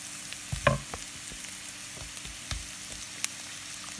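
Minced meat frying in a pan for a filling, a quiet steady sizzle broken by a few sharp spatters and light stirring scrapes, with no talk.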